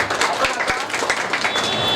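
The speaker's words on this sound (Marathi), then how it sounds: "सपकाळ सरांसाठी एकदा जोरदार टाळ्या झाल्या पाहिजे" A crowd at a free notebook distribution for ninth and tenth grade students applauds a tax consultant. The clapping is dense and continuous for about two seconds, with a faint voice mixed in.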